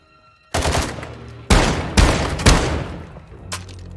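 Gunfire in Call of Duty: Modern Warfare II: loud, close bursts of shots in several sharp volleys, each ringing out briefly before the next, with no talk over them.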